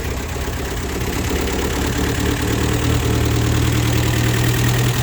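A Datsun 1200, last registered decades ago, idles steadily after being restarted, its engine note close, loud and unbroken throughout, with no talking.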